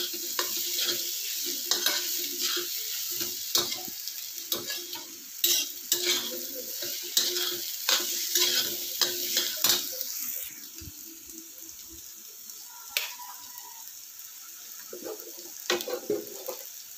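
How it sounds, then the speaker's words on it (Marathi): Egg bhurji is stirred in a hot pan until dry, with a spoon scraping and tapping against the metal in an irregular rhythm over a soft, constant sizzle, close and alone. "पूर्णही सुकी होईपर्यंत अशी ढवळायची तिला"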